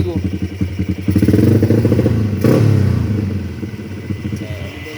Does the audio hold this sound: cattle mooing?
no